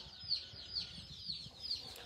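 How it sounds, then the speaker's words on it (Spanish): A hen with chicks on a ranch, several short high peeps repeating in a steady rhythm over a faint low background, quiet and somewhat distant, no speech. "La gallina con pollitos,"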